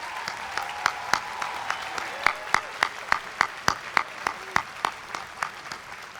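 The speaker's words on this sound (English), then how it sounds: "please join me in honoring your loved ones with a big round of applause for all that they have done to make this day possible for you" Audience at a UCLA law commencement ceremony claps in a round of applause, with sharp individual claps standing out rhythmically over a softer, steady wash of clapping.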